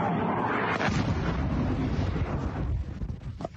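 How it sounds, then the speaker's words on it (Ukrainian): Missile explosions striking Chernihiv city: a deep, sustained roaring rumble with a broad blast wash that fills the clip and slowly thins out toward the end, loud and distant-sounding, with no voices. "Вранці Чернігів здригнувся від вибухів."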